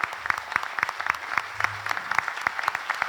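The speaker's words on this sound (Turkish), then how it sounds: "Aylardır bana katlanan değerli üyeleri için sonsuz alkışlarınız onlarla." Audience applause for the members of a Turkish classical music choir at a concert, dense and steady clapping running throughout at an even loudness.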